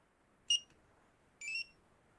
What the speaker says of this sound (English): my car alarm's going off right now